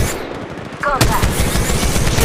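Gunfire in the mobile battle royale game Apex Legends, a loud burst of rapid shots with a brief game voice line mixed in.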